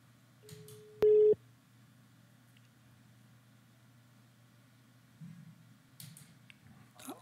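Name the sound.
telephone call tone during radio phone-in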